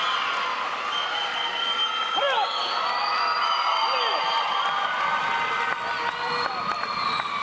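Loud crowd cheering, whoops and shouts at an ATA taekwondo extreme forms competition, a sustained roar with rising excited yells throughout.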